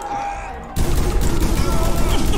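Burst of gunfire erupts suddenly in a Prison Simulator prison riot, loud, dense rapid shots continuing steadily after a quieter start.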